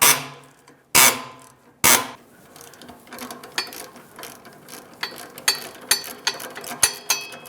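Ratchet loosening a 13mm exhaust hanger bolt on a 1998-2002 Lincoln Navigator: three sharp initial pulls, then quick bursts of close clicking pawl ratcheting, with no talk.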